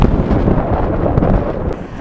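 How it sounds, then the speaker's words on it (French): Strong wind buffets a microphone outdoors in Oman, producing loud, continuous low rumbling and flapping gusts for two seconds with no speech. "j'espère que le vent n'est pas trop fort et que vous m'entendez assez bien comme ça"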